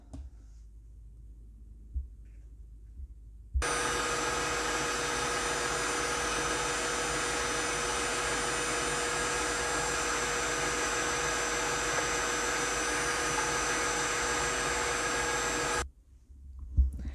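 An electric mixer whirs steadily for about twelve seconds, blending butter, walnut oil, brown sugar and granulated sugar for banana nut bread, starting and stopping abruptly against a quiet room.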